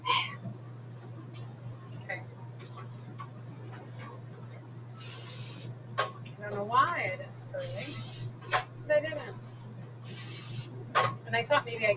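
Cooking spray hisses into a loaf pan in three short, loud bursts spaced a couple of seconds apart, with someone talking quietly and kitchen clatter in between.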